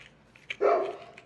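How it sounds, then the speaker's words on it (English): Two dogs let out a short, loud bark burst indoors near a bow-making workbench, following a softer yip, with no talk over it. "barking at Chris, like they don't know him."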